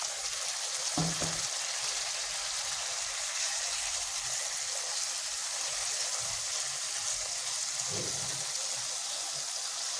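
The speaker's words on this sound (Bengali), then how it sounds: "এখন আমি একে একে সব মাছগুলো দিয়ে দেবো সেই ভাজা মাছগুলো" Fried rohu fish pieces sizzle in a pan of cooked-down masala, a steady hiss running throughout with a couple of louder stirring or placing noises near the start and again later, no one talking.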